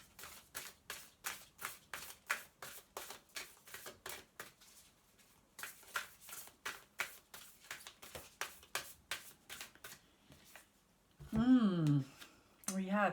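A deck of Moonology oracle cards shuffled by hand, a long run of quick rhythmic riffling slaps close up, followed by a brief spoken voice.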